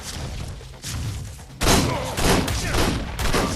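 Gunfire during a multiplayer Ark Survival Evolved raid: dense bursts of shots and heavy thuds, growing louder after the first second and a half, with a few voices audible beneath the firing.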